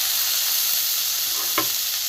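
Semolina filling with chopped tomato sizzles steadily in a pan, a bright continuous frying crackle with one brief scrape of stirring near the end.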